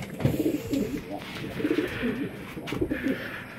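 Pigeons at a racing-pigeon club coo in soft, repeated throaty phrases, close by, over a faint background hum, with a few short bursts spread across the moment.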